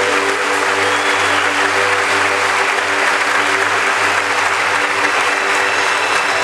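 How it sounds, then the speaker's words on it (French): A circus audience applauds a Russian trapeze act, sustained dense clapping from a large crowd filling the space at steady volume, with a faint low hum beneath and no voices. "vous avez pu applaudir au trapèze de Russie, Kristina Baudina."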